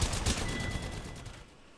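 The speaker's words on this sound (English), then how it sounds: "I've definitely been shooting the enemies." Gunfire in the video game Apex Legends, a loud burst of rapid shots up front that tapers into a fading, echoing tail.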